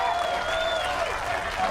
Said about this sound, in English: a rapturous cheer for the American